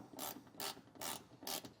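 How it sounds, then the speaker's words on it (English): A 10mm wrench tightens fastener bolts on the fender of a 2024 Toyota Tacoma while WeatherTech mud flaps are installed: four evenly spaced rasping ratchet strokes, close but faint. "go at them with your 10mm wrench to tighten them all down"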